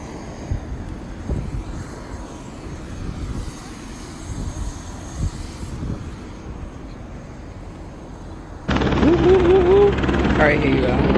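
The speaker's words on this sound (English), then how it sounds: "I'm going on a fucking helicopter" Helicopter in flight heard from a ride 2019, a steady engine and rotor drone throughout that grows suddenly louder and denser near the end, with people talking over it.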